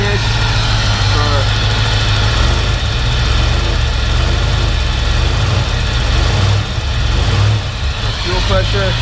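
The engine of a Camaro idles loud and close on a cold start, a steady rumble with slight dips, while someone talks over it.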